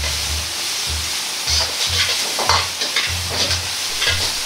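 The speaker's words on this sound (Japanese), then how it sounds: "醤油の香りが全体に広がるように手早く炒めます。" Tuna and komatsuna salt-kombu fried rice tossed quickly with soy sauce in a hot pan, rhythmic scraping and clanking of a rapid stir-fry over a steady sizzle, close and without voices.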